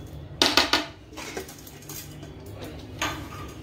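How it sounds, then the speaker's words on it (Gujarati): Cashews, almonds and coconut tipped into ghee in a pan while making soft sukhadi, giving a few quick clattering knocks at the start, then lighter clinks and one more knock near the end. "હવે એમાં આપણે કાજુ બદામ, પછી આ ટોપરું"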